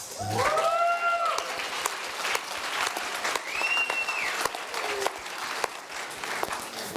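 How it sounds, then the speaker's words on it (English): A university audience at a Shark Tank–style entrepreneur event breaks into sustained applause, a dense wash of clapping that carries on for several seconds, with brief whoops or shouts rising over it early and midway. "Let's give him a round of applause."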